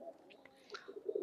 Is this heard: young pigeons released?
yes